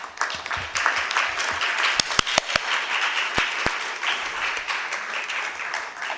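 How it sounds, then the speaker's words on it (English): Steady audience applause at a Bangalore ladies' chapter book release, continuous clapping with a few sharp, closer claps standing out near the middle, sustained throughout without speech. "I think they deserve a bigger round of applause"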